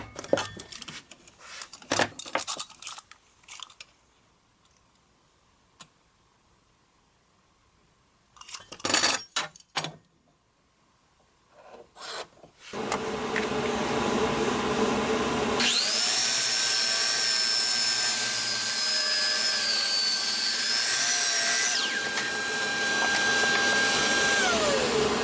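A wood router trims the outer edge of a wooden dish along a template, a loud steady whine that holds for about twelve seconds after some quieter handling noises and short bursts.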